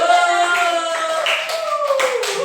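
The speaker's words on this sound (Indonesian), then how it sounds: "Beri dulu tepuk tangan untuk teman kita yang sudah hadir." Classmates applaud after a school presentation, dense continuous clapping close by under a tonal hum, lasting throughout.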